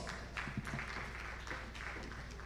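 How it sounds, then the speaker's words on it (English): Audience applause at a National Diaspora Day celebration fills the space as a steady wash of clapping, moderately loud and continuous from a room full of people, with no speech over it. "Please welcome Ibrahim Nafadi with a round of applause."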